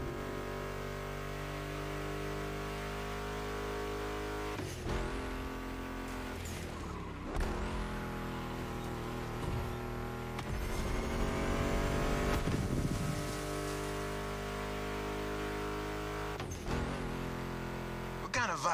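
A Ford Mustang GT muscle car engine in The Crew Motorfest racing game drones steadily at moderate level, with revs rising and falling between gear shifts and brief tire squeal, under background music.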